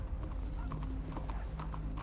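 Horse hooves clip-clopping in the video game WildRP, a quiet steady rhythmic trot heard over a low background hum.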